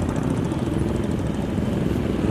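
Motorcycles in a bike rally at the Polo Ground in Patiala make a dense, continuous engine roar, loud and close, with no clear breaks.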